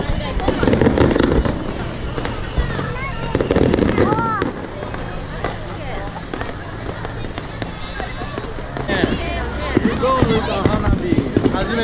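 Fireworks at a fireworks festival crackle and pop continuously close by, with people talking excitedly over them.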